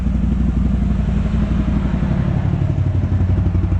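A Can-Am Outlander XMR ATV with an aftermarket RJWC header and dual-exit exhaust idles while warming up outdoors, giving a loud, close, rapid clattering pulse that stays steady throughout.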